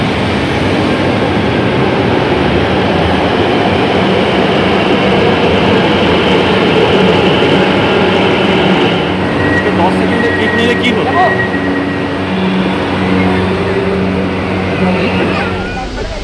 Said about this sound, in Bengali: জয়দেবা হসপিটালের এখান থেকে মেট্রো ছাড়লো